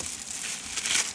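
Small gum and lollipop wrappers crinkle softly during a car clean-out, a brief, quiet rustle that swells slightly near the end.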